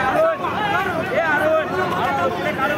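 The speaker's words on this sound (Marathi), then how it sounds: "गर्दीच गर्दी" A crowded street hums with many people chattering at once, a dense close babble of overlapping voices that holds steady and loud throughout.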